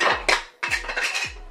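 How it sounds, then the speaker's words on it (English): A new nonstick pan is handled in a home kitchen, giving three sharp metallic clanks that each ring out briefly, close and fairly loud, with no talking. "I'm breaking this pan already."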